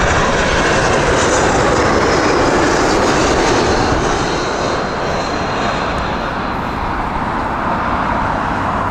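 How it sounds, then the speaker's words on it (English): A Swiss Airbus A220 airliner arriving from Zurich at Heathrow Airport makes a loud, sustained jet engine roar with a broad rushing wash that stays strong throughout. "we just watched the beautiful Swiss inbound with their Airbus A220"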